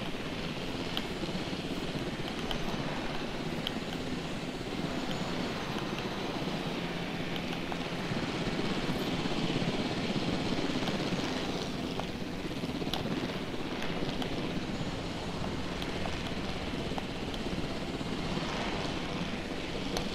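A helicopter in the dinosaur park video game Jurassic World Evolution drones steadily throughout, a continuous engine and rotor roar at an even level with no talk.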